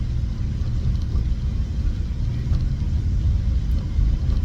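A car drives through traffic with a steady low engine rumble and road noise. The sound is continuous and close.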